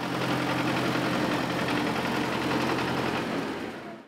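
Tractor engine running at a vocational college open day, a steady mid-pitched drone with a faint hum that holds for about four seconds, then fades at the end, no voices.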